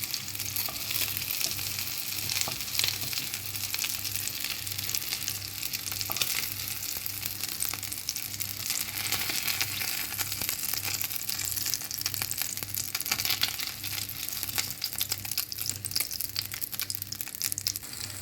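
Chopped chicken liver cutlets fry in oil in a covered pan, giving a steady, moderately loud sizzle and crackle with a low hum underneath and no talking.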